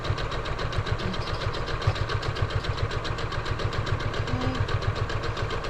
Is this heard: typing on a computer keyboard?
no